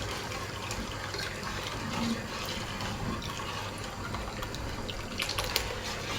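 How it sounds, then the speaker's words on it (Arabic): Liquid poured steadily into a pot of soup while it is stirred, a continuous close splashing rush with faint clinks throughout. "ها وقد ما نصب وانا نحرك ما نوقفش حتى تحريك."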